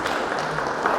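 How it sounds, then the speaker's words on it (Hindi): Audience applause fills a short burst at a Swami Vivekananda Medha competition event in Talegaon, Pune: a dense, steady wash of clapping at even loudness throughout, with no voices standing out. "जोरदार ताली। या तालियां तालियां।"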